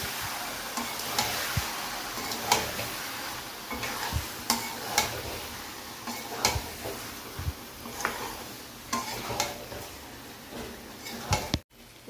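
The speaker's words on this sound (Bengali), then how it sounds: "এখন এই পর্যায়ে ঘুগনির মটরগুলো আমরা দিয়ে নিলাম, দিয়ে আমরা কষিয়ে নেব।" Ghugni peas being stir-fried with mutton in a pan, a soft steady sizzle broken by repeated scraping and knocking strokes of a spatula at an irregular rhythm, fairly quiet with no voices.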